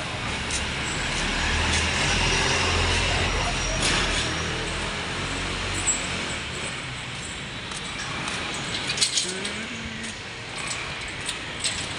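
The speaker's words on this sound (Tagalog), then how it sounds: "May truck na dadaan." A truck rolls past on a road outside, a steady low rumble that swells over the first seconds and then slowly fades, with faint voices and scattered background noise throughout.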